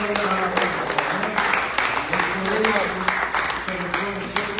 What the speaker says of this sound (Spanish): Ese fuerte aplauso a Cristo, a Jesús